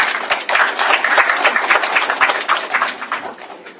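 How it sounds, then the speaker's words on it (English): A hall audience claps for the Reverend Dr. Okuni Frimpong as he is welcomed to give an opening prayer, a loud, steady crowd applause holding for the whole stretch. "Please welcome with a round of applause."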